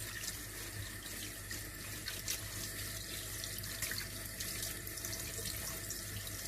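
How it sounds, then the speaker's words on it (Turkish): Tap water runs steadily into a sink while fish are washed one at a time, a constant broadband rush with no voices and only small splashes varying the flow. "Evet şimdi de tek tek yıkanıyor."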